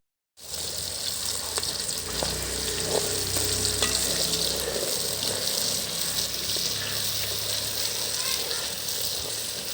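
Crushed herbs stirred into hot coconut oil while making herbal hair oil, a continuous loud, close sizzle and bubbling with occasional stirring clinks, with no talking.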